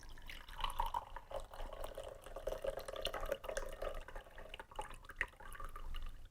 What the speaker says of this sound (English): Well, I'm going to use the pineapple juice instead.